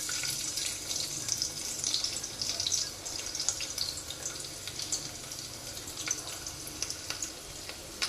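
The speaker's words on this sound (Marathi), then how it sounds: "त्याच्यामध्ये आपण आता लसूण टाकून घेऊया" Crushed garlic dropped into hot oil with crackling cumin sizzles and hisses steadily at low volume, a continuous fizzing texture with tiny pops, and no voices are heard.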